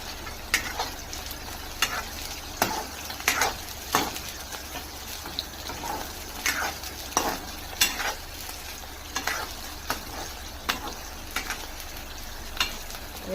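Green chillies and garlic cloves sautéing in a pan for a restaurant-style cashew curry, a steady close sizzle broken by regular scraping stirs of a spoon.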